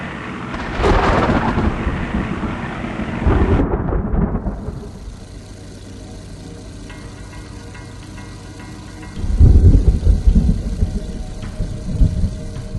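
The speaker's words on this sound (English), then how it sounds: "With Melbourne just a short ways ahead, they run into severe thunderstorms." A severe thunderstorm near Melbourne brings deep rumbling thunder in two heavy rolls, separated by a quieter stretch of steady rain hiss and low engine-like drone.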